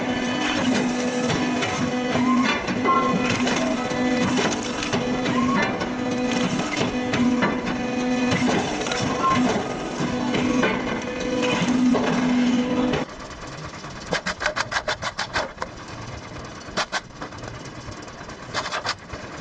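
A loud, steady mechanical roar of a wood chipper running, grinding continuously, then dropping to a lower idle with sharp intermittent knocks and cracks.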